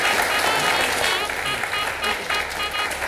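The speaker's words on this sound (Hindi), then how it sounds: "चलिए तो हमारे 4 जीनियों के लिए फिर से एक बार जोरदार तालियां हो जाए।" A studio audience at a Hindi reality show gives loud, continuous applause for the contestants, a dense wash of clapping that stays strong throughout with a faint crowd murmur.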